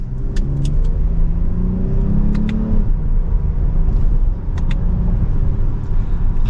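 A 2023 Lexus ES 350 F Sport V6 accelerating hard from second gear in Sport S Plus mode, heard from inside the cabin as a steady engine drone and road rumble with rising revs and a few faint clicks.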